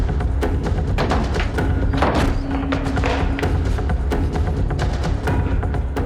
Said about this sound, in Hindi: दरवाजा बंद है। तोड़ो से।